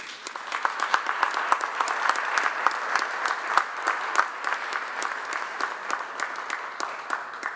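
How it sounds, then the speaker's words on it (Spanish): Strong, sustained applause from a crowd at a presidential press conference in Mexico, dense clapping filling the whole stretch at steady loudness with no speech. "Despidamos a nuestras autoridades con un fuerte aplauso."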